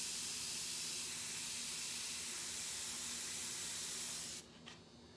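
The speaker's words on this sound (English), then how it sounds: "Come to watch me airbrush a rose." An airbrush sprays paint in a steady, close hiss while a rose is painted, running unbroken for about four seconds before cutting off abruptly, leaving a faint hum.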